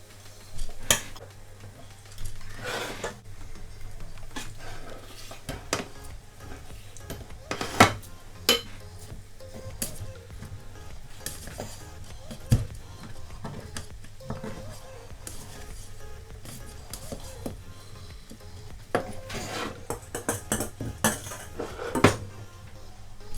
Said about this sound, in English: use a very big spoon to mix all the rice together